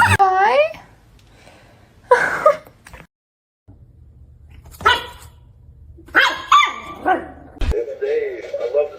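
A dog barks loudly in short bursts with a growling edge, close by, with pauses between outbursts and a few human voices mixed in around it.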